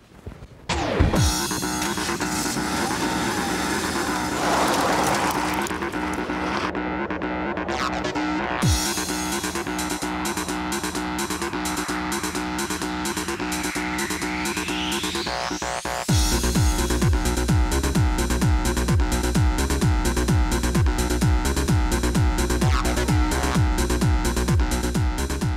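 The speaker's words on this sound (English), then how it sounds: "It's the Clio Sport 172 2-litre 16 valve" A Renault Clio Sport 172 2-litre 16-valve hot hatch drives by, its engine revving through rising and falling pitch sweeps, then a louder, rhythmic pulsing drone takes over partway through, close and prominent with no talk.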